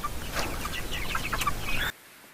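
A large broiler chicken held in someone's hands clucks in quick, close, loud bursts for about two seconds, then abruptly falls silent.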